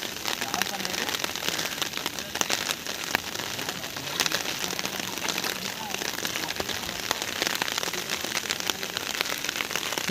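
Heavy monsoon rain pours steadily over a Konkan village, a dense, even hiss of drops on surfaces with scattered sharper pattering, moderately close and unbroken for the whole stretch.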